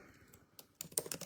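Quick, light typing on a computer keyboard by someone wearing an arm brace, soft scattered taps that build into a denser, louder burst of close keystrokes.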